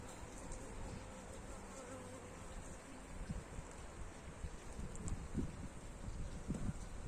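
A steady, dense buzz of many honey bees close by in an open hive, with occasional louder passes of individual insects.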